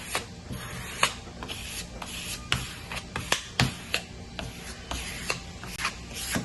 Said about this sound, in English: you can take another cleaner scraper, kind of scrape it flat